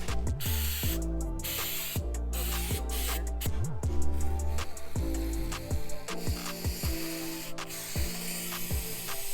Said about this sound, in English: I'm gonna spray it on both sides here, the top side and the back side.